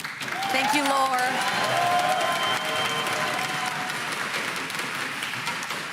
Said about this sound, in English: a very heartwarming applause